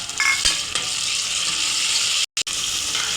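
Mint, coriander, tomato and onion sizzle and fry steadily in hot oil in a pan, with a few stirring scrapes and two brief cuts to silence near the end.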